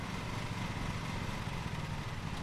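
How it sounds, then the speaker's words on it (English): A riding lawn mower engine in Lawn Mowing Simulator runs at a steady, loud drone with no clear change in pitch. No one talks over it. "I've never operated a mower like this"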